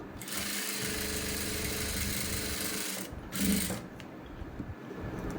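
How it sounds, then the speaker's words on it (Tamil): A sewing machine stitches a blouse seam, a close continuous mechanical whirring hum that dips briefly at about three seconds, surges again, then quiets toward the end. "இப்போ வந்து ஸ்டிச் பண்ணிக்கலாம்."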